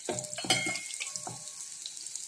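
Mini eggplant fritters (beguni) frying in oil crackle and spatter in quick bursts. The sound is quiet and close, strongest early and then settling into a softer bubbling.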